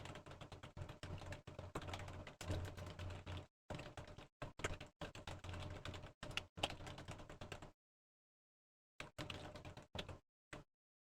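Rapid, continuous typing on a computer keyboard close up, dense key clatter in bursts with short pauses and a longer silent gap before a few final keystrokes.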